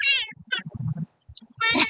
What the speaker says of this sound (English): They take the cat everywhere.